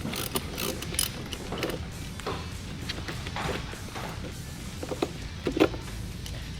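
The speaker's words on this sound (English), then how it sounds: "We're going to crack loose this nut before we remove the battery terminal." A wrench cracks loose the nut on a car battery terminal, making close, intermittent ratcheting clicks and small metallic knocks, with no talk.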